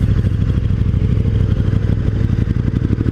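A 2018 KTM 1290 Super Duke rolling on the throttle in second gear from very low speed, its big engine a loud, close, steady pulsing rumble that holds its pitch without any talking.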